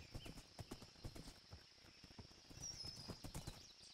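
Horse hooves clip-clopping in the Minecraft video game, a quick run of light, evenly paced hoof clops over a quiet background with no talking.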